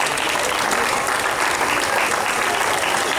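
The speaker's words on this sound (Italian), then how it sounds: "Quindi fatevi un applauso tutti." An audience at an Italian book presentation applauds in a dense, steady burst of clapping that holds level throughout, loud and close.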